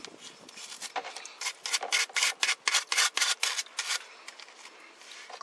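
A brush scrubs the holes of a wheel bearing clean with quick stabbing strokes, giving about a dozen close, rhythmic scratchy bursts.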